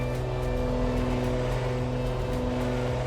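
Steady, loud droning hum of twin Aerostar 700 aircraft engines during climb-out after takeoff, a constant tonal roar with no talk.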